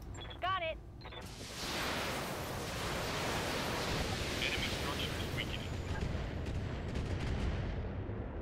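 Heavy weapons fire tearing down a building in BattleTech: a brief synthetic voice blip, then a sustained roaring wash of blasts and crumbling rubble, broad and loud for several seconds with scattered sharper impacts.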